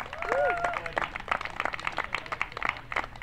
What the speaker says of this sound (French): Merci Véronique, une main d'applaudissements.